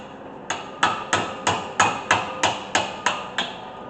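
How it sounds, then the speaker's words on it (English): A hammer strikes a tight brake caliper bracket on a 2016 Ford Focus ten times in a steady, even rhythm, each blow sharp, loud and close with a brief ringing decay. "Here's where the hammer comes in, because these things are put on there pretty tight."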